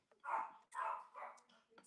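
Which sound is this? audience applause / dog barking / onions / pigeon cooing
dog barking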